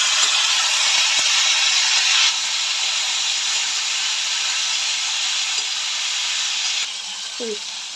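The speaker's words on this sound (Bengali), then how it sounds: "এবার আমি সিম দিয়ে দিলাম এই যে সিমটাকে একটু ভেজে নেব" Flat beans fry with potatoes in a pan, a dense even hiss of hot oil held at a steady level close by, easing slightly near the end with a faint clink.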